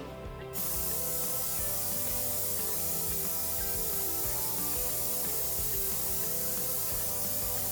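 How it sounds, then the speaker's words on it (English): A steady hiss of aerosol cooking spray onto a muffin tin begins after a brief pause and continues without break for several seconds, close and fairly quiet. "I'm going to spray my muffin tin to keep them from sticking."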